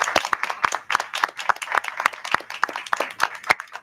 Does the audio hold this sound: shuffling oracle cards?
no